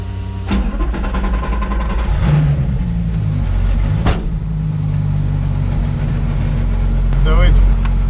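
A roughly 620-horsepower Lamborghini Super Trofeo EVO2 V10 race car rumbles loudly on a track, a deep sustained engine drone with a few sharp swells, while people talk over it.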